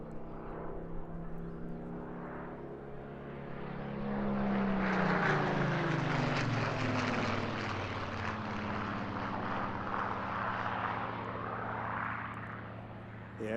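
A WWII photographic reconnaissance aircraft, once flown with an RAF reconnaissance unit, passes over an airshow by the sea, its piston engine drone building to a loud, sweeping pass and then holding steady as it flies on.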